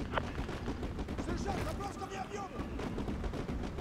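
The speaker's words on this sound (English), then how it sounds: "Fire mission received. Artillery inbound." Artillery strike called in during the Modern Warfare 2 Remastered campaign, with dense rumbling booms and crackling gunfire sustained throughout, layered under game sound and radio-style voice chatter.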